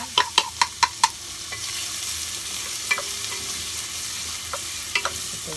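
Onion frying in a hot saucepan for a homemade tomato basil sauce, with a quick run of sharp utensil clicks against the pan at the start, then a steady crackling sizzle with occasional scraping stirs.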